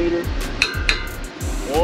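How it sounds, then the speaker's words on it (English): Metallic clinks and ratchet-like taps from a wrench loosening the 19 mm brake caliper bolts on a 2016 Honda Odyssey, a few sharp tool contacts over low background noise. "So now we can start taking off the two 19 millimeter caliper bolts."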